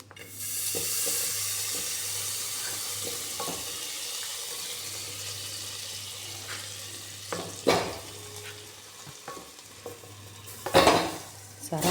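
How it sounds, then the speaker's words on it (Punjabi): Butter heating in a pot on a gas stove to make ghee gives a steady, soft sizzle, with occasional clinks of a utensil against the pot and a louder scrape near the end. "ਗੈਸ ਦੇ ਉੱਪਰ ਅਸੀਂ ਪਤੀਲਾ ਰੱਖਦਾ ਤੇ ਇਹਦੇ ਵਿੱਚ ਅਸੀਂ ਮੱਖਣ ਪਾਵਾਂਗੇ"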